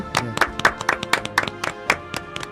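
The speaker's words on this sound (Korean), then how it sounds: "다시 한번 큰 박수 부탁드립니다" Scattered clapping for district council members at a civic group's evaluation event, a modest crowd producing irregular, fairly close hand claps over roughly two and a half seconds.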